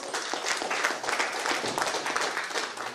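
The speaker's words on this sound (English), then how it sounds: "a big round of applause for all of us" Dense, steady applause from a large audience at a 1971 graduating batch engineering alumni reunion fills the whole stretch, loud and continuous with no talk over it.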